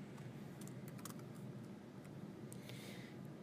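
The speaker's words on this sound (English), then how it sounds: "For email addresses, type in the email address." Keyboard typing on an office setup while entering email contacts into a Xerox 58/78 series copier, soft scattered clicks in an irregular rhythm over a steady low room hum.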